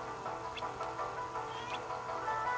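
A cat in the video game Kingdom Hearts II lets out a few short, high meows and chirps, fairly quiet, over a steady background of game ambience and music.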